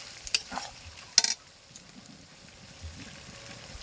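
Tomato sauce being stirred into cooked capsicum in a pan: a few scraping strokes near the start, then quieter faint sizzling and soft spoon movement.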